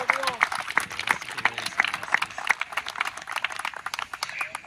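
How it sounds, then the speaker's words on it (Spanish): A church congregation claps during a sermon, scattered hand claps rising into a moderate round of applause that carries steadily through the room. "Alguien le da un aplauso a Cristo."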